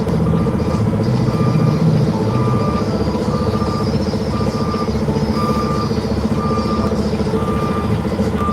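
A truck reverses slowly with loud, steady backup beeps repeating at an even rhythm over a constant diesel engine rumble, close and without talk.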